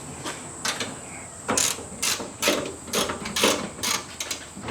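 Nylock nuts being tightened on FJ55 Land Cruiser suspension, a rapid run of ratcheting mechanical bursts at a fairly even rhythm, loud and close, without any speech.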